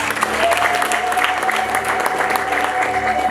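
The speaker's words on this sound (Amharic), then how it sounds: "እስቲ አጨብጭቡ ለጌታ ክብር።" A church congregation claps together in praise to the Lord, a dense, steady wash of applause sustained throughout with a faint tonal hum underneath.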